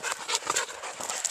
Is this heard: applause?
no